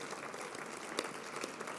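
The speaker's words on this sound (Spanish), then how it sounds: "os pido un aplauso porque cada vez lo hacen mejor" An audience at the FITUR 2026 tourism fair applauds, a soft, steady wash of many hands clapping throughout with a slight swell near the middle and no one talking over it.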